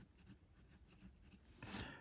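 A fountain pen scratching across Midori paper, soft, close strokes in a quiet room, with a slightly brighter, firmer scrape near the end.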